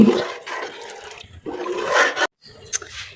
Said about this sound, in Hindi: पानी डाल लिया।